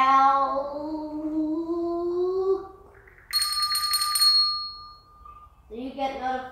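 A notification bell sound effect rings with bright, sustained chimes after a rising, tonal jingle, followed by another short ringing burst, loud and clean over near silence.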